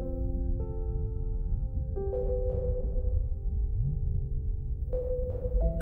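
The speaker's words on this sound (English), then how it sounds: "Can you hear the gentle humming as the submarine carries you away?" A submarine glides through deep blue sea with a low, continuous engine hum and rumble, while soft sustained tones shift pitch above it, steady and unbroken throughout with no talking.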